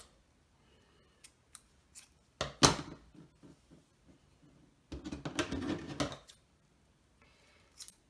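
Scissors cutting out pieces of yarn for Halloween decorations, scattered close snips and a couple of longer runs of rapid cutting, with quiet gaps between, no voices.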